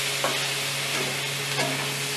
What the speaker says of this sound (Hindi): फ्राई करूँगी, शैलो फ्राई होना चाहिए, बहुत डीप फ्राई नहीं